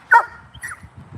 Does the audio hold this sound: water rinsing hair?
no